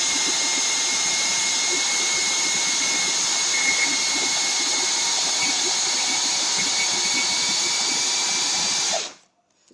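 A blender grinds peanuts into peanut butter, a loud, steady whirring roar that runs unbroken for about nine seconds and then cuts off abruptly into silence.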